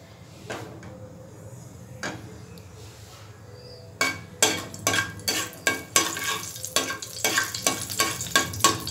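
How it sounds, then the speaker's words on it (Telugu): Tempering spices hit hot oil in a pan for a brinjal and tomato curry, starting with quiet sizzling and a few clinks, then turning into louder, rapid crackling and spattering close by. "తర్వాత పోపు దినుసులు వేద్దాము."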